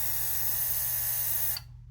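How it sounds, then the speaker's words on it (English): A cordless portable airbrush with a compressor sprays paint in a steady hiss over a low mechanical hum, then cuts off abruptly just before the end. "as you can see, it does spray a nice spray pattern from far away"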